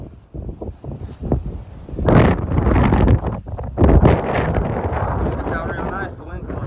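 Gusts of wind buffet the microphone outdoors near trees by a creek, loud rumbling bursts rising and falling, with someone talking through part of it.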